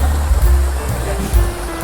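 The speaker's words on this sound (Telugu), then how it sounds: "వాటర్ ఫాల్స్కి వచ్చేసాను" A waterfall sends water rushing down in a loud, close, continuous roar with a deep rumbling undertone, lasting only a couple of seconds.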